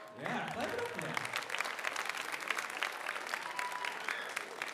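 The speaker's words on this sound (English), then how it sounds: "clap it up for that" A crowd applauds at a school Writers Week livestream event, a steady wash of clapping that lasts throughout, with a voice talking briefly at the start.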